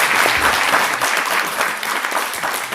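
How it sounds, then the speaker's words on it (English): A panel discussion audience gives a brief round of applause, dense, even clapping sustained at a steady moderate level throughout. "give a round of applause for"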